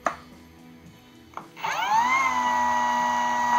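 A Heimerdinger LB-201 cordless mini angle grinder clicks, then spins up with a rising whine that settles into a steady high-pitched motor hum, loud and close.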